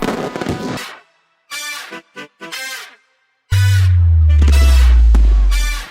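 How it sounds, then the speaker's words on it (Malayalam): A large gundu firecracker goes off with a loud, deep boom that rolls on for a couple of seconds, following a few short vocal bursts. "എന്റെ ഗുണ്ടിന്റെ ശബ്ദം"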